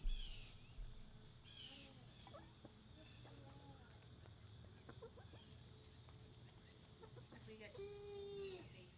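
Chickens cluck in short, scattered calls at a moderate distance over a steady high insect drone, with a louder burst of clucking near the end.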